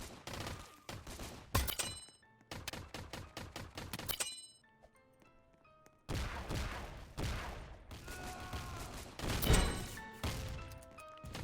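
Gunfire rattles in a Roblox shoot-out video game: rapid, loud bursts of repeated shots come in several volleys separated by brief pauses, with electronic game effects in between.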